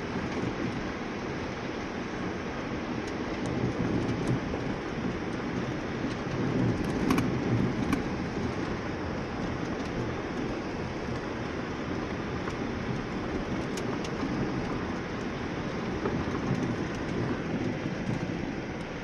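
Steady, close rumble of a car being driven along a road while passing running antelope, a broad continuous road and engine noise lasting throughout with slight swells, no voices.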